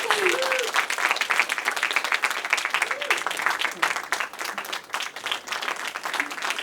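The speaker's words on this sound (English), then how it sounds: "Please give the Sombrero family a warm aloha and round of applause" Warm round of applause from the audience at a panel on the 1945 liberation of Manila as a veteran's family is honored, sustained dense clapping with voices audible through it.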